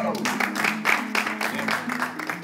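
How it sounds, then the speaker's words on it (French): A studio audience applauds in light, irregular clapping that mixes with voices talking over it for a few seconds. "j'aimerais qu'on applaudisse"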